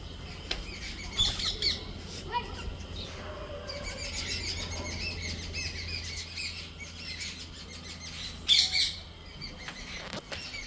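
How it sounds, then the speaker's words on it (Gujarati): Sparrows chirp outdoors on a cold evening, scattered high tweets coming in brief clusters near the start and again near the end over a low steady background hum. "ચકલીઓ બધી ચીચી કરી રહી."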